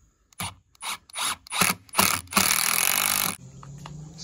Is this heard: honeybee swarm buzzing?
no